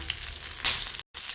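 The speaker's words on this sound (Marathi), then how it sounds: "आता यामध्येच आपण मस्त हिरव्या मिरच्या आणि कढीपत्ता पण लगेच टाकून घ्यायचा आहे। आपण चांगल्यापैकी भाजून घेऊया।" Green chillies and curry leaves sizzle in hot oil, a steady close frying hiss with a brief crackling burst midway, then a short gap of silence before the sizzle resumes.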